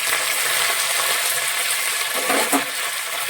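Red chillies and curry leaves fry in hot oil for a crab curry, producing a loud, steady, close sizzling hiss with a small crackling burst near the end.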